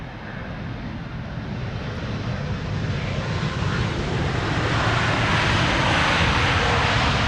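An Air Canada airliner inbound from Toronto arrives at Amsterdam Schiphol Airport, its jet engine roar building steadily louder and broader as it approaches, with wind noise and no talking.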